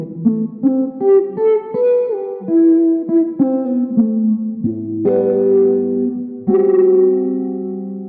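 An electric guitar run through effects, with reverb, echo and chorus, plays a slow intro line from a song: a sequence of plucked, ringing single notes and chords, each decaying under a wash of echo.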